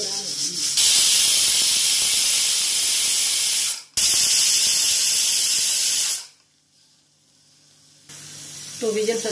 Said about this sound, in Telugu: చూడండి 2 విజిల్స్ రానివ్వాలి.